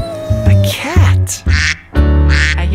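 Several loud, nasal duck quacks in quick succession, close and clear, in short bursts with brief gaps between them.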